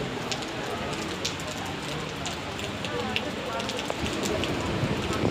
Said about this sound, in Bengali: ক্রমাগত বৃষ্টি পড়েই চলেছে, আর বৃষ্টির শব্দ সবসময় কানে আসছে।